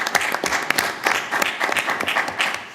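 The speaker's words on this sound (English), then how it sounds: "Give him a round of applause." Applause rises from the audience at a transit commission special meeting, a crowd of hands clapping in a lively, uneven patter with distinct sharp claps standing out, steady across the whole stretch.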